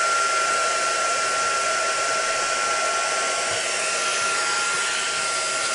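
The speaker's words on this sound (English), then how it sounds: "Just need my gun or heat tool" A heat tool blows hot air to heat stamping craft materials, a steady, close rush of airflow that holds the same level throughout with no talking.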